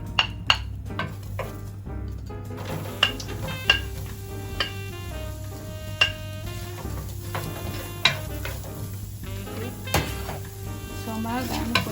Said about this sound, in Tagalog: Magsusutay lang po ng garlic at onions.